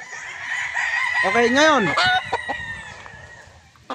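Roosters at a game farm crow loudly with rising-and-falling calls, plus clucking from several birds close by, while someone speaks briefly over them.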